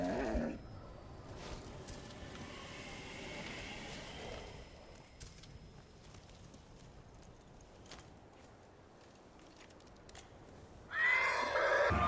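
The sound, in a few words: horse neighing in video game Ghost of Tsushima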